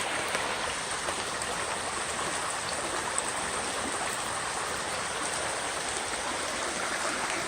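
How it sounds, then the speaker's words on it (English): A small waterfall of floodwater during a flash flood in East Bend, with a steady, even hiss of rushing water that stays constant throughout and sounds fairly close. There is no talking. "Looks like we have a little waterfall."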